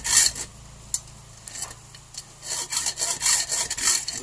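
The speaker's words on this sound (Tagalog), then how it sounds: "anihin natin siya dito ng lagaring bakal." Hacksaw cutting through wood by hand, with loud rasping strokes that are sparse at first and then settle into a quick back-and-forth rhythm. No one talks.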